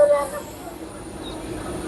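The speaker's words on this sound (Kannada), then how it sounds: "ಕಟ್ನಿ ಜಂಕ್ಷನ್ ಹತ್ರ ಟ್ರೈನ್ ನಿಂತಿದೆ" A train stands halted at Katni Junction in Madhya Pradesh on a foggy morning, giving a steady low rumble with a brief tonal whine at the start, fairly close and continuous.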